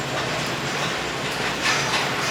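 An Arkansas & Missouri Railroad train rolls along the tracks with a loud, steady rumble and rattle, heard as a continuous wash of noise.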